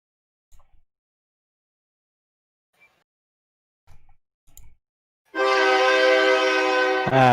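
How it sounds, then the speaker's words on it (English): A train horn blasts loudly and steadily for about two seconds after a few faint knocks and clicks in near silence. "Train."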